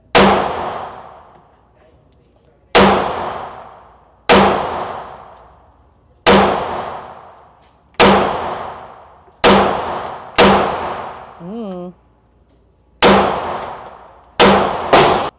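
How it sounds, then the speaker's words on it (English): CZ pistol, an optics-ready model without an optic, fires nine sharp, loud shots at a steady pace about every one to two seconds, each with a quick decaying ring, plus a brief metallic clink near the end. "let's see how this shoots compared to the Shadow 2"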